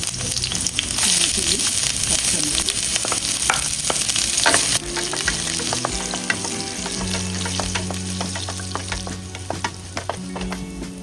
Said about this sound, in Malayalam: എണ്ണ ചൂടായി നമുക്ക് കടുകിടാം. കടുക് കഴിഞ്ഞ് വെളുത്തുള്ളി ഇടട്ടെ.